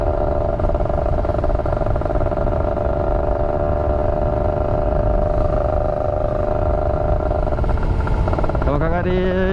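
A Kawasaki Ninja RR motorcycle engine idles and revs in city traffic, a loud, close, continuous two-stroke buzz that holds steady before rising sharply in pitch near the end.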